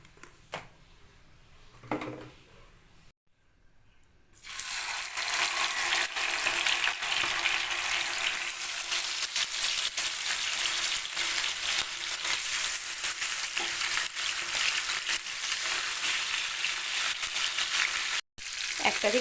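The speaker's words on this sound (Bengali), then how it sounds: "এবারে প্যানের মধ্যে কিছুটা তেল গরম করে নিই" Marinated fish fillets sizzle loudly in hot oil in a pan, a steady crackling hiss that starts after a few seconds of quieter handling and runs on with only a brief break near the end.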